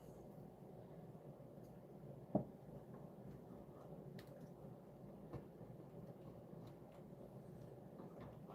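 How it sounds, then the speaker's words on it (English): A train rolls past in the distance, a low, continuous rumble with faint rhythmic clacks and one brief knock, quiet and steady throughout. "Sounds like a train going by"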